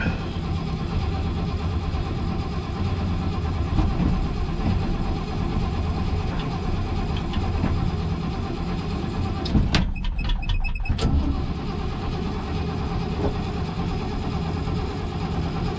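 An old truck engine with the choke pulled cranks and runs at a steady idle, a loud, continuous rumble close by, with a brief burst of clatter partway through.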